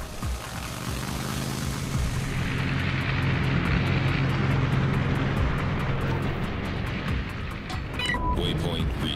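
A fighter squadron of planes in a video game drones steadily and loudly with engine roar for several seconds, then thins out as faint rhythmic ticking and a few sharp electronic chirps appear near the end.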